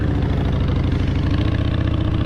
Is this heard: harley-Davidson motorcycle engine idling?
yes